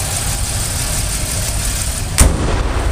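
The 3.4 liter V6 in a 2009 Pontiac Torrent runs at a smooth, steady idle close by, with one sharp click cutting through partway.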